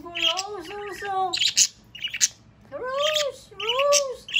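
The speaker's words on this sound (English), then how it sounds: "Ooh, cute birds!" Pet budgies chattering close up in a series of warbling, whistled chirps and squawky calls that come in quick bursts with short pauses between them.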